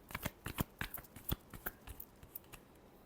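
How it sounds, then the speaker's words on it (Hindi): Tarot cards being shuffled by hand, a quick run of crisp riffling flicks and slaps in a steady rhythm, close and fairly quiet with no talking. "Last shuffle."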